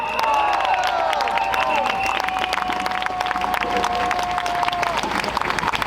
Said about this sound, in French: On peut applaudir tous ceux qui ont fait de la route pour venir.